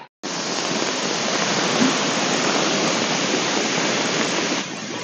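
A powerful monsoon torrent rushing in a steady, loud, unbroken roar of water that holds evenly from start to finish, with no voices.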